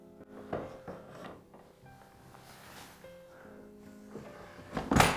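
An old vanity drawer is pulled out in an abandoned house in Portugal, with faint wooden scraping and soft knocks, then a louder, close rattling thud at the end; no one speaks.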